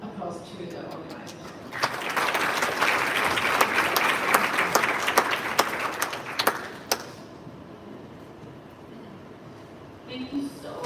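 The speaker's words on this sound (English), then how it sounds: "So please join me and give an applause to the organizers." An audience at a Science Day closing event applauds the organizers, a sustained round of many hands clapping with sharp individual claps on top, fading after several seconds as speech resumes.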